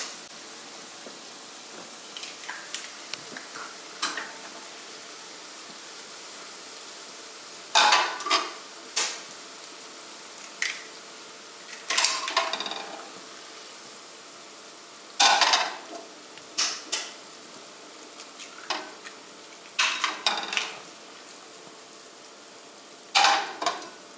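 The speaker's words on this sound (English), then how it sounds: "I will put it in low flame and now I will add the eggs." Eggs frying with garlic in a pan over a low flame give a steady soft sizzle throughout, broken by sharp clinks and scrapes of a utensil against the pan at irregular intervals, close and with no talk.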